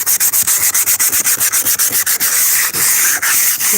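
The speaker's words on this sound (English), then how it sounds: "I'm gonna sand it some." Hand sanding, rapid rhythmic back-and-forth scratchy strokes, close and loud, steady throughout with no voices.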